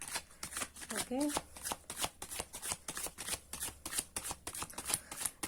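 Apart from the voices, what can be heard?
shuffling Moonology Oracle tarot cards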